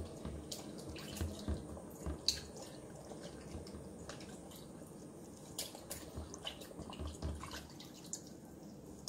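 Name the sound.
wool nappy cover swished around in lanolin water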